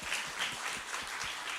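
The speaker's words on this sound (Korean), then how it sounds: "박수로 마치도록 하겠습니다" A church seminar audience applauds briefly with dense, even clapping at moderate volume.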